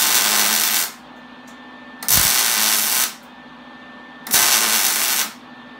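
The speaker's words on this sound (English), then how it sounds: "I'm just gonna take and weld the piece onto here like this." Welding a scrap metal piece onto a base, three loud bursts of harsh crackling buzz, each about a second long and separated by quieter pauses with a faint hum.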